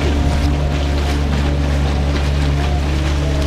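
Small motorboat outboard motor running steadily on a river between Chicago and St. Louis, a constant loud drone with water and wind noise mixed in.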